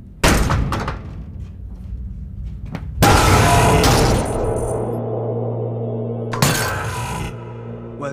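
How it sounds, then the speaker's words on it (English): Glass shatters loudly in a damaged storage facility, with a sharp crash near the start, another heavy smashing impact at three seconds and a further burst of breaking later, debris rattling and a low hum between. "He broke the glass."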